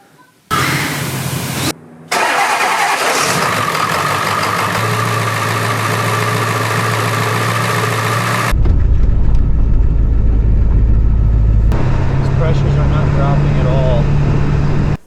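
A 7.3 diesel engine idling while the vehicle sits still during a fuel delivery diagnosis, a loud steady rumble that shifts to a deeper, heavier drone partway through, with someone talking over it.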